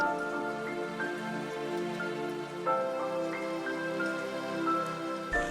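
Steady rain patters on a surface during a mountain trail hike in the Sudetes, a constant close wash of drops with no voices, accompanied by a faint sustained hum.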